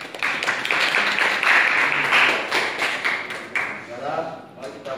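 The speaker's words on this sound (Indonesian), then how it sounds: "Mari kita berikan aplaus kepada Ibu Jasa." An audience applauds for Ibu Jasa at a Pancasila education class session. The clapping is steady and fairly close, with some voices mixed in, and it holds for several seconds before thinning out.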